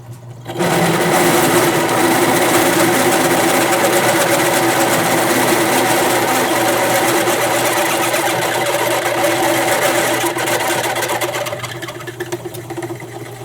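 A power drill bores out 5/8 inch steel nuts so they fit around a 3/8 inch pipe nipple for a forge burner. It makes a loud, close, steady motor whine that runs unbroken for about eleven seconds before trailing off, with no voices.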